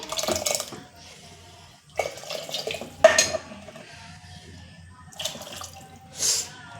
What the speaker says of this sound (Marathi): तर हे मिक्सरचं भांडं धुवून पाणी टाकलं